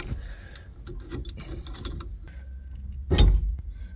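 A ratchet backing out screws on a B&M Quicksilver shifter in a 1973 Maverick Comet, with close clicking and mechanical rattles ending in a louder clunk.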